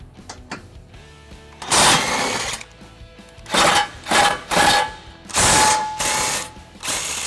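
Ratchet wrench with 18 mm and 15 mm sockets loosens bolts on a 2011 Chrysler Town and Country, several rapid clicking bursts of varying length close by, separated by short pauses.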